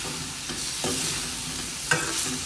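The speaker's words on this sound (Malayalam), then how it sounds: "അങ്ങനെ ഇളക്കുക." Cauliflower pepper fry is stirred in a sizzling pan: a steady frying hiss broken by a few distinct scraping strokes of the spatula, close and fairly loud, with no voices.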